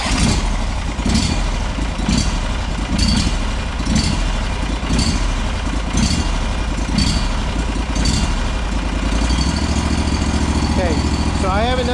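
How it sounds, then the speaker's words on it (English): A John Deere 318 tractor repowered with a Briggs engine starts and runs close by, giving a loud, steady mechanical drone with regular pulsing that shifts in tone near the end. "Let me see if it'll fire up here."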